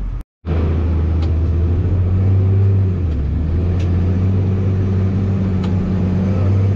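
A dump truck engine during corn harvest on a farm, a steady loud low rumble that swells slightly as it revs, close by, with no talking.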